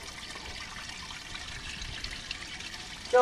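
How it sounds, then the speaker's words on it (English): Water circulates steadily through a backyard pond with a bog filter in winter, a soft continuous trickle and wash that ends in a brief louder splash. "So we still got moving water, so we're okay."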